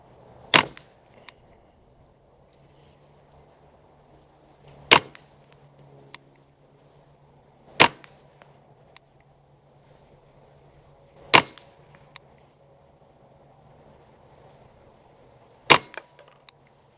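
Five sharp rifle shots from an E. Arthur Brown barrel crack out loud and close. Each shot stands alone with a few seconds of quiet between them, under a faint steady hum of wind.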